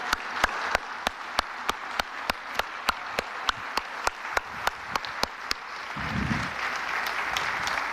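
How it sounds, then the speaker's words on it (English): Applause at a BNI Bangalore 2019 event: evenly spaced sharp claps at first, then thicker crowd clapping over the final seconds. "Round of applause, ladies and gentlemen."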